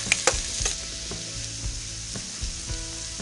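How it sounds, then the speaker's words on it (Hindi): Red chili, turmeric, coriander powder, salt and garam masala frying with onion in a pan for paneer bhurji, a steady close sizzle with a few sharp spatula scrapes and clicks, no talking. "लाल मिर्च, हल्दी पाउडर, धनिया, नमक, गरम मसाला, इनको अच्छे से भून लेंगे"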